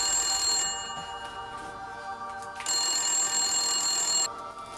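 A telephone rings in two bursts of bright electronic ringing with a short gap between them, clear and close with nothing else over it.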